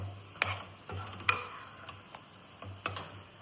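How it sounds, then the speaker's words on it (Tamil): Sliced mushrooms are stirred into a pan of masala, giving a few sharp, close scraping clicks of a spoon against the pan over a faint background sizzle. "இப்போ இந்த காளானை நாம இதுல போட்டுருவோம்"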